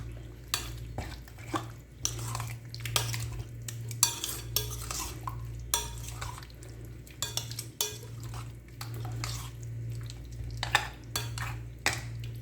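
Chicken biryani marinade being stirred together with fried-onion oil in a bowl, with repeated clinks and scrapes of a spoon against the vessel in an irregular rhythm, close and fairly quiet over a low steady hum.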